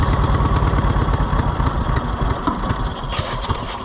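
Cushman Truckster utility vehicle engine running close by, a loud, throbbing mid-pitched chug that holds steady and then eases slightly near the end, alone without speech.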